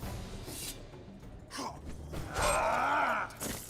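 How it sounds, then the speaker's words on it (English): A door opens in The Witcher 2 with a creaking, groaning swing that peaks in a loud grinding creak near the end, set among low game ambience. "Oh, fine, I'll open the door."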